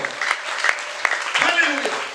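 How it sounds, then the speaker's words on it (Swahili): A church congregation claps in a brief, dense burst of applause mixed with overlapping voices and cheering. "Chapia Bwana makofi."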